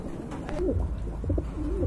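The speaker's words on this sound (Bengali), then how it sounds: "আর এক জোড়া কবুতর দেখতে পাচ্ছেন, খুবই সুন্দর লাহোরি" A Lahori pigeon gives soft, low, rolling coos, a few close murmuring calls in quick succession against quiet surroundings.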